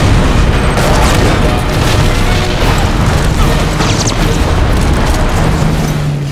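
Loud, dense video game explosion played through a surround sound system, a continuous booming rumble with crashing debris that fills the whole stretch without pause.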